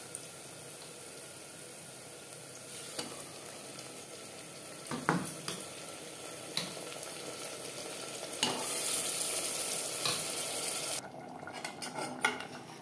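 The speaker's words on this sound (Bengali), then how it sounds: "মাটন বেশ ভালো করে মিক্সড করে দেব। হাই টু মিডিয়াম ফ্লেমে 5-6 মিনিট নাড়াচাড়া করে নেব" Marinated mutton is stirred into fried onions in a pot over a high flame. A low continuous sizzle runs under scattered metallic clanks and scrapes of a spoon against the vessel, and it swells into a louder hiss partway through.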